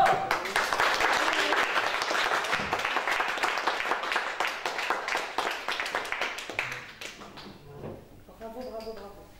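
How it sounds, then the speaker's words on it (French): An indoor audience claps warmly and densely for several seconds, the applause slowly thinning into scattered claps before a voice speaks briefly at the end. "Là, on peut l'applaudir largement."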